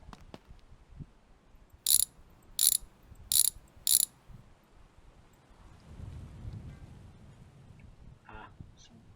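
Ratchet wrench working on a car in the video game My Garage: four short, loud, evenly spaced ratcheting bursts in close succession, followed by quieter low mechanical rumbling.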